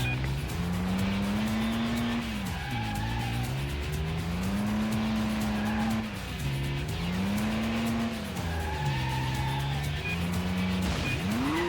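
Racing car engine in the Stuntman video game, revving in rising and falling sweeps as the car powers through a course, with tire squeal from skids and a handbrake turn, loud and continuous throughout.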